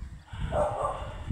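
Several neighbourhood dogs barking around a house lot in Santo Tomas, Batangas, a steady stretch of mid-distance barking over low outdoor background noise, with no talking.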